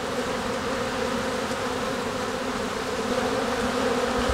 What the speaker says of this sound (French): Il y a une énorme agrégation d'abeilles présentement